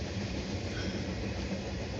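CSX Q634 manifest freight train rolling past slowly, a steady broadband rumble and rattle of cars with tankers, close and even throughout.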